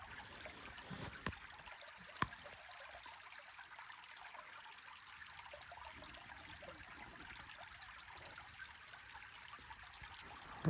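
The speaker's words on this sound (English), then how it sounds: "the only noise is a little bit of burbling brook." A small brook on the Pacific Coast burbles softly and steadily through a quiet forest, a faint continuous trickle with no other sounds.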